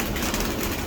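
Pigeons coo softly in a brief, steady murmur under a broad background hiss, with no voices present.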